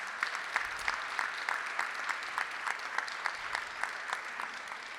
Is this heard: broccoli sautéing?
no